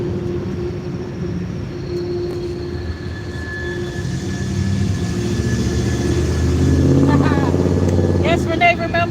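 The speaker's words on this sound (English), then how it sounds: "Amtrak is to the left, freight train to the right." A freight train rolls past on a South Carolina import-export rail line, a steady rumble that builds and grows louder toward the end, with people talking over it.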